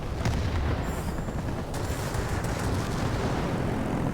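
A 30mm aircraft cannon fires in World of Warplanes, a dense, continuous booming rattle of rapid shots over engine roar, loud and sustained throughout.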